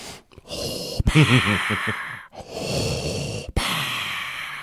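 Close, heavy breaths blow straight into a microphone, several slow exhales and inhales with rustly bursts and brief pauses between them.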